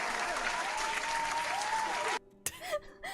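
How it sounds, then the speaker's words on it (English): Scattered applause from a distant crowd plays for about two seconds, steady and broadband, then cuts off abruptly, followed by a brief sharp noise and a few short voiced sounds during a casual couch interview. "I hear far off clapping."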